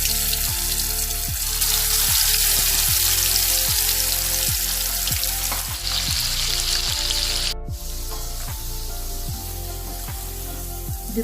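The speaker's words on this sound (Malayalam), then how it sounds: "ഇനി ഇതിലേക്ക് ചിക്കൻ ഇട്ട് ഫ്രൈ ചെയ്ത്" Marinated chicken fries in hot oil for Malabar chicken kondattam, a steady bright sizzling hiss that stays loud and close throughout, under a repeating mechanical hum and ticking, with a brief dropout near the end.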